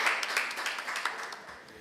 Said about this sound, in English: Let's clap them again